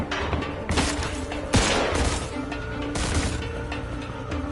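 Gunfire from the Mafia II video game: a rapid fusillade of loud shots with sharp crashing impacts, dense and continuous across the clip, with no talk.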